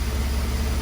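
Car engine with a KE-Jetronic fuel injection ECU idling roughly, a dense, steady low rumble heard close and loud for a brief moment with no voices.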